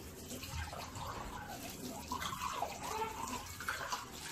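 Tap water runs steadily while dishes are washed in a home kitchen, a soft continuous splashing with faint clinks, heard fairly quietly and without talk.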